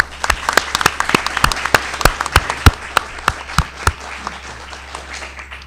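An audience at a university press conference on diabetes and obesity applauds to welcome a speaker, a steady round of close, crisp clapping that gradually thins out and fades over several seconds.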